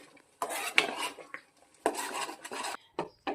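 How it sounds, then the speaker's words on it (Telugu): A spoon scrapes and clinks against a metal pan while ghee is stirred into a carrot halwa mixture, in short bursts of scraping with brief gaps between them, close and fairly quiet, no voices. "ఇలా నెయ్యిని వేసుకున్నాక బాగా మిక్స్ చేసి కలుపుకోవాలి"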